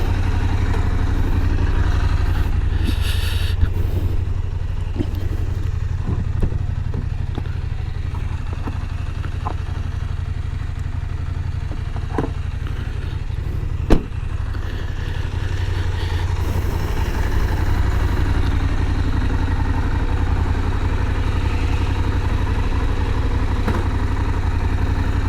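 A KTM 890 Adventure R motorcycle engine running at a steady idle or low speed, close and continuous with a low rumble and light mechanical clatter, one sharp knock midway, no talk.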